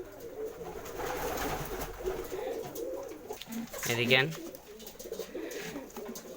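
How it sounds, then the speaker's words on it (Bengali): Pigeons kept for sale, including a high-flying one, give a soft, close coo that swells near the middle, while someone talks over the bird sounds. "কবুতরটা অনেক উঁচুতে উঠতে পারে, যাদের পছন্দ হবে তারা কমেন্টে বলবেন।"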